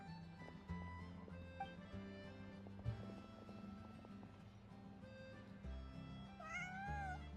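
A cat meows a few times near the end, in a video game scene with background music and clip-clop footsteps running throughout.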